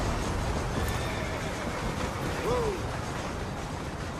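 Horse whinny and hoofbeats in Red Dead Redemption, a distinct descending neigh about midway over a steady broadband wash of galloping hooves and game ambience, fairly loud throughout.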